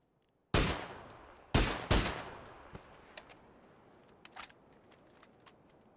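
Gunshots in the video game PUBG during a pro scrim match: three loud sharp shots with ringing tails, followed by fainter distant pops and clicks.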